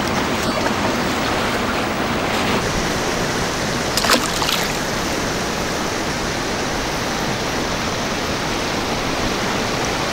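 Ocean waves wash around rocks in a steady, dense roar of surf, loud and unbroken throughout, with one brief splash near the middle.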